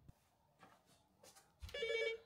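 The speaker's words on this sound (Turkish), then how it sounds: "Şu anda telefon çalıyor." A hotel-room telephone rings once in a short electronic trill near the end, after a few soft thumps and room noises.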